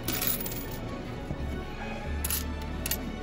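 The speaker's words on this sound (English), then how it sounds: "Get coins in." Coins clatter and drop in the return area of a Coinstar coin-counting machine, a few bright metallic clinks and jingles over a low mechanical hum, close and fairly quiet, with no voices.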